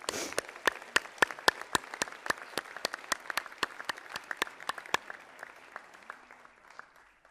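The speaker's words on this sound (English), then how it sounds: "Please join me in a round of applause to show our appreciation." Applause at a presidential investiture ceremony comes as crisp, separate claps from a modest crowd, strongest at first, then thinning and fading out over the last couple of seconds.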